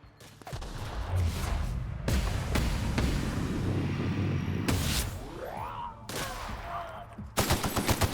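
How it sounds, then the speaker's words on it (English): Gunfire rings out in the video game The Outer Worlds, with loud bursts of automatic and single shots over a busy combat soundscape, followed by sharp rapid reports near the end. "I'm gonna shoot this one, I think."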